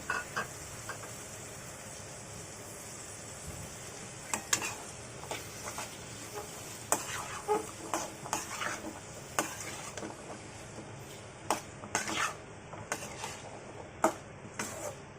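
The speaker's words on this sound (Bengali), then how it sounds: "এখানে আমি মাঝারি সাইজের 2টা আলু ছোট ছোট করে কেটে ধুয়ে পরিষ্কার করে রেখেছি, এটাকে দিয়ে দিলাম।" Small diced potatoes are stirred and fried with beef liver in a pan, a soft steady sizzle under repeated spatula scrapes and taps that come close and fairly regularly, with no speech.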